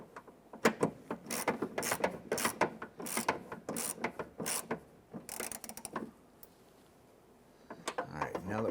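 A ratchet tightens fasteners on the rear exterior door handle of a 1999-2004 Jeep Grand Cherokee, giving bursts of quick, close clicking strokes separated by short pauses, then a quiet stretch before a few more clicks.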